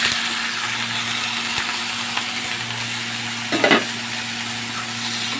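Chopped bottle gourd added to mustard oil in a wok gives a steady frying sizzle with occasional stirring scrapes, a brief louder clatter midway, and no one speaking.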